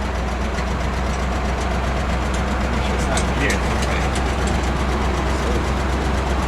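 A 1982 Chevy C30 truck idles with a loud, steady, low engine rumble close by, and a person speaks briefly over it.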